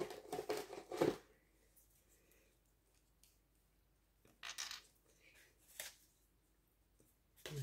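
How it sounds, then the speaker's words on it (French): Short bursts of crinkling and tearing of adhesive tape being pulled and handled while making a junk journal page, separated by quiet pauses. "Je vais prendre la scotch."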